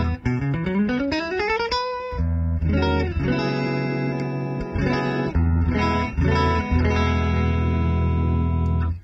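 Clean electric guitar played through two amplifiers, a rising slide of notes followed by ringing chords and picked phrases, full and loud.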